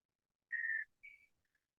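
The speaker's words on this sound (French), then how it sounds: "Je lui siffle les choses à l'oreille." Soft whistling into a horse's ear: one held note, then a shorter second note and a tiny faint trailing chirp, close and quiet against a silent background.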